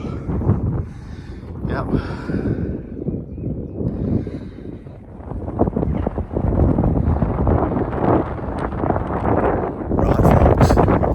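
Strong wind buffets the microphone on an exposed hilltop above Thor's Cave in the Peak District, a steady rumbling roar with gusts that swell louder toward the end, while a person speaks briefly.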